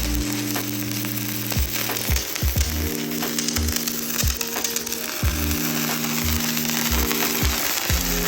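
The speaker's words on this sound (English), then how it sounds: "Welding itself right now." A cheap $89 110V welder lays a bead, giving a steady, loud, crackling sizzle that runs unbroken for several seconds over a low electrical hum.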